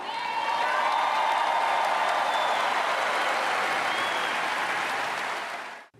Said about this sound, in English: You heard the crowd roar after Ivanka Trump touched on motherhood